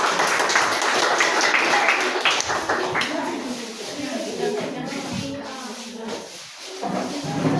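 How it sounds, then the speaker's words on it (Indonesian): A classroom of students applauds a student group after its presentation, a dense burst of clapping that is loudest at first and then thins and fades, with voices murmuring underneath. "Berikan tepuk tangan untuk kelompok 2"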